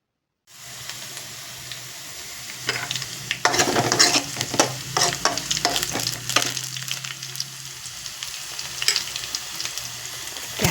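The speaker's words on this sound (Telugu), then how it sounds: "క్యారెట్ తాలింపుకి" Carrot tempering stirred and frying in a pan with garlic and chillies, steady crackling sizzle punctuated by repeated scraping stirs, close and fairly loud, no talk.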